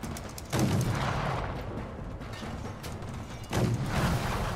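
Gunfire from the video game Fallout: New Vegas, with two heavy booming shots about three seconds apart, each followed by a long rumbling tail over a steady background roar.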